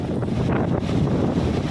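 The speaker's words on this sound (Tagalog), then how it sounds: "Medyo malakas yung hangin habagat nung kami po ay napunta rito." Steady, heavy monsoon wind at a river in Sua, Malinao, Albay, Philippines, buffets the microphone throughout, a constant low roar and rumble with no voices.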